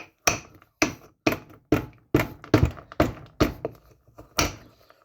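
Oak galls are pounded in a mortar, about ten sharp, evenly paced thuds at close range, each strike ringing briefly before the next, with no voices.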